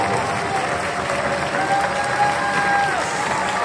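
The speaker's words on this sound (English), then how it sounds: "Let's give them a big clap." Sustained, full applause from an audience, even and continuous, with faint crowd noise and a thin whistle-like tone drifting through.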